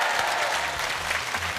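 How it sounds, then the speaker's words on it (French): Audience applause on a French television variety show, a dense, steady wash of clapping from a studio crowd, brief and fairly loud. "On applaudit, s'il vous plaît, les 3 garçons dans le vent"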